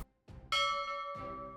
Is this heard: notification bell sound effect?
yes